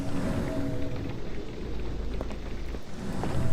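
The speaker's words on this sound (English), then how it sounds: "This dreary rain is making a miserable day even worse." Steady rain falling in a gloomy Victorian scene from Sherlock Holmes: The Awakened, a dense continuous patter with a low rumbling undertone, moderately close and unbroken, with no voices.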